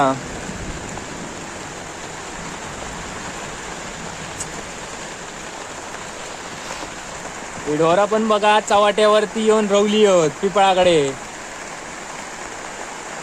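Heavy rain pours steadily outside in a village at the first monsoon shower, a constant broad hiss that a voice talks over for a few seconds.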